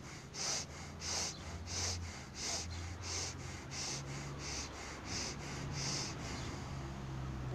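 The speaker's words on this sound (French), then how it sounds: "on inspire bien avec le ventre pour se relâcher" Deep belly breaths during a relaxation exercise come as a quick, regular series of about a dozen close, airy inhales and exhales.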